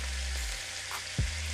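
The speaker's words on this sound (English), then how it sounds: "We're gonna drop the beef in there." Ground beef dropped into a hot pan for hard-shell tacos fries with a steady, close, even sizzle that fills the whole stretch, with a soft low thump near the end.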